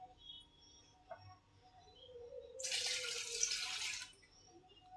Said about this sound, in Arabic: ننزل عليه بكوبايه اللبن